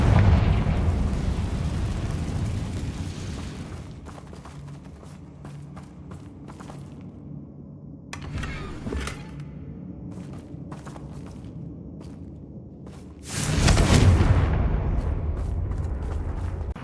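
Confringo fire spell blasting in Hogwarts Legacy, a loud burst at the start over a low rumbling backdrop, scattered small impacts and footsteps in between, then a second strong explosive whoosh near the end.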